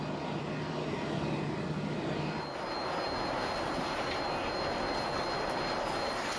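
A Lufthansa Boeing 747-8 jumbo jet roars in flight during a flight load survey, a dense, steady cabin rumble of engine and airflow noise that shifts in tone partway through, loud and unbroken.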